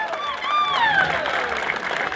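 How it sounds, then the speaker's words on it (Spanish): An audience at a Paraguayan folk dance show claps in a brief burst of crowd applause, partly masked by a voice that speaks over it. "¡Fuerte los aplausos!"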